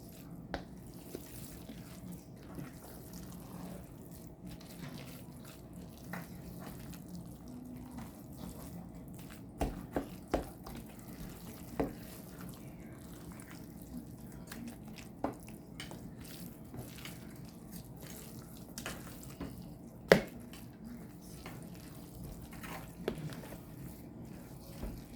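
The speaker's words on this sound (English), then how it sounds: "I'm using the broth that I made that I cooked the turkey legs in." Turkey broth, cooked with turkey legs, being poured into cornbread dressing, with a soft continuous trickle of liquid and scattered faint drips and small clinks, quiet and close.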